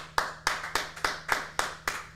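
Hands clapping in a steady rhythm, eight sharp claps about a quarter second apart, moderately loud and alone over a low steady hum, in the background of a sports talk show room.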